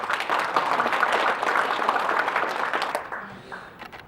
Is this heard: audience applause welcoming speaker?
yes